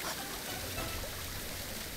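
Tap water running steadily from a faucet under repair, the supply left on, a continuous close trickling and streaming with no break.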